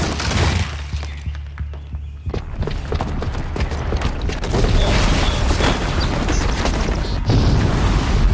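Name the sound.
bomb explosion in the video game Horizon Zero Dawn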